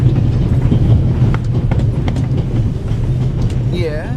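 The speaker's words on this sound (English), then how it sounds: "The noise on this train is driving me crazy." Train noise in the video game The Raven Remastered, a loud, continuous rumble of a rail carriage with rhythmic clicks and rattles running throughout, close and steady.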